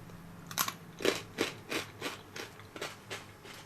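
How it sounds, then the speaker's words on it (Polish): Crisp crunching of well-baked homemade potato sticks being bitten and chewed, about eight sharp bites spaced roughly every third of a second, close and clear with no talk. "Te dobrze wypieczone bardzo przyjemnie chrupią, co za chwilę udowodnię"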